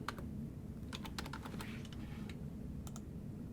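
Quick bursts of typing on a computer keyboard, light close clicks in short uneven clusters over a low steady hum, with no one speaking.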